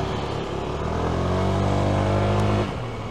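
A Honda Click 160 scooter ridden through Bangkok traffic, its engine droning and rising in pitch as it accelerates before easing off near the end, loud and close with surrounding traffic noise.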